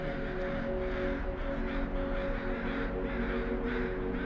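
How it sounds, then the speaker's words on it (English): Crows cawing in repeated harsh calls across a lake, echoing from hollows over a dense, steady background with a low droning hum. "The cawing of crows reverberated out of the hollows and echoed across the lake."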